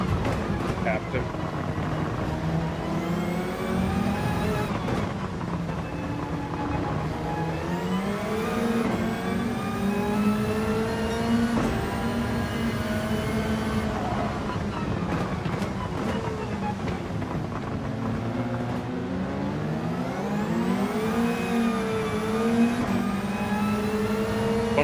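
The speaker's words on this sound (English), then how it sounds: "Spun up the rear tires, but I got it straight, so it didn't try to slide on me" A race car in Gran Turismo 7 revs hard as its rear tires spin up, the engine note climbing and falling through repeated gear changes, loud and close, with a voice talking over it.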